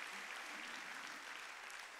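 Congregation applauding during a Korean church's Wednesday worship service, a dense, continuous patter of many clapping hands heard at a distance for the whole moment.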